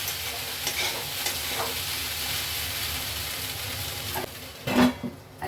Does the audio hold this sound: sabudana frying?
yes